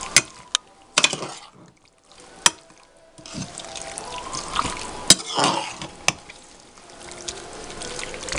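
Chicken pieces are mixed by hand into a wet, spiced biryani marinade in a home kitchen, making close, squishy, sloshing stirring sounds with a few sharp knocks against the bowl.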